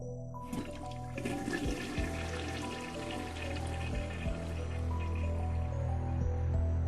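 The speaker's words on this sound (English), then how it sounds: "I hear the sound of flushing." A toilet flushes in the Steins;Gate visual novel, a loud continuous rush of water running for several seconds over a low steady hum, with no talking.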